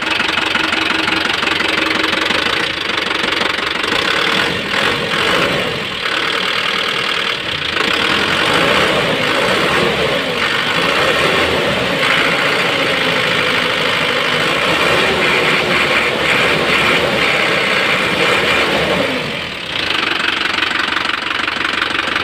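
An Isuzu engine runs steadily after a full overhaul, a loud continuous mechanical clatter with a knocking, idling rhythm throughout and a brief dip near the end, no talk over it.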